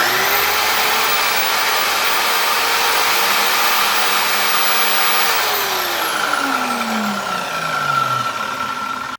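A JELLAS circular saw runs unloaded with a loud, steady motor whine and rushing air for several seconds, then winds down as the blade coasts to a stop.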